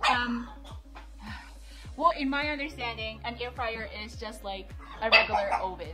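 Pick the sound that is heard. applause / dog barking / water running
dog barking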